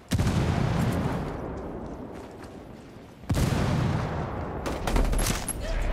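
Gunfire crackles in Ghost Recon Wildlands Ghost War multiplayer, loud, dense bursts of shots and booms that fade and then return in sharp, heavy volleys.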